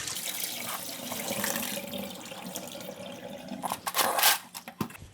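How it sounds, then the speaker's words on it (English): Washing water is poured out of a basin of clams, giving a continuous splashing rush that fades slightly, then a few louder splashes and clattering knocks near the end. "Then I'm going to take out the water."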